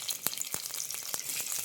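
Four garlic cloves frying in a spoonful of oil in a pan on the stove, a quiet, steady sizzle broken by sharp, irregular crackling pops, with no voices.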